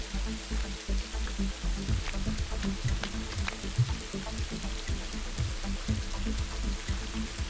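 Rain in the Rising World video game: a steady patter of drops falling on surfaces, with scattered louder plinks over a constant wet hiss.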